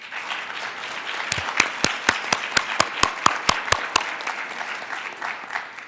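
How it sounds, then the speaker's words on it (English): A crowd at the 2024 World Wildlife Day celebration at United Nations Headquarters applauds with steady, evenly spaced claps over a wash of clapping hands, swelling and then fading out. "Please, a final round of applause for them."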